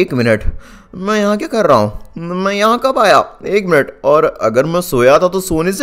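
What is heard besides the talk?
No everyday noise stands out behind the speech.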